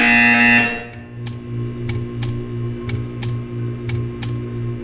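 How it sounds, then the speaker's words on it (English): A sustained electronic buzzer tone in the video game Portal 2 sounds briefly, then cuts off, followed by a low hum with a series of regular sharp ticks. "You will hear a buzzer."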